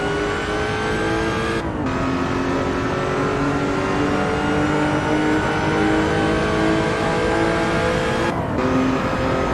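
Race car in Assetto Corsa EVO, its engine revving loud and close in a continuous drone with rising pitch and two brief gear-shift dips, no talk.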